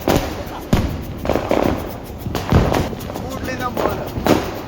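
Diwali firecrackers burst outdoors in a rapid, uneven string of sharp bangs and crackles, close and loud, with people talking and shouting over them.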